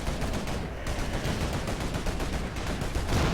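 Rapid, continuous automatic gunfire from a quad cannon in the real-time strategy game Rise of the Reds, a dense rattling barrage that stays loud and steady throughout without talk.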